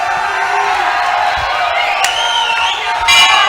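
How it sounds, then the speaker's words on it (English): An Australian crowd at an MMA fight cheers and whoops for fighter Luis Flores, a dense roar of voices rising with shouts and a louder burst near the end. "The Aussie crowd right behind Luis."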